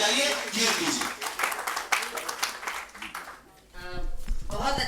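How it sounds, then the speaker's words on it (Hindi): Audience applause rises for the poet Kirti at a poetry gathering in a Delhi assembly chamber, with dense clapping that dips briefly before a voice speaks over renewed clapping. "एक बार जोरदार तालियां आप बजाइए कीर्ति जी"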